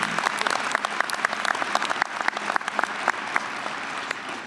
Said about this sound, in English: if we could get another round of applause for them.